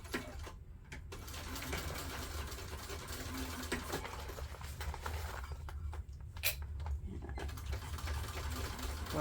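A sewing machine stitches a backpack seam in a continuous, fairly quiet whir with light mechanical ticking, close by, with a few small clicks from fabric handling.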